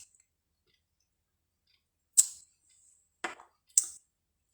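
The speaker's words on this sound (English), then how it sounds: "we're just going to fussy cut out the sentiment" Scissors fussy cutting a gold-embossed card sentiment out of paper: a few crisp, separate snips close by, spread across quiet gaps.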